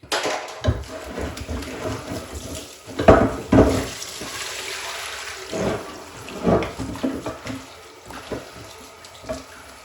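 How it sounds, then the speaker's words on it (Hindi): Water runs from a kitchen tap as carrots are washed, with splashing and rubbing noises that swell and fade in irregular bursts and a few handling knocks, all close by and without speech. "इनको मैंने अच्छी तरह धो लिया"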